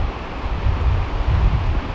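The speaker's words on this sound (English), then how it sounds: "Those are some big waves." Wind buffets the microphone on an open lake from a fishing boat, a low rumbling roar swelling in two surges, with big waves slapping beneath it and no talk.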